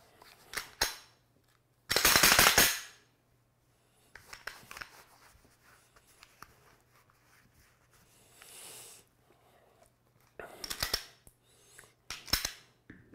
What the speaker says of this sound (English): I'm gonna work the slide some more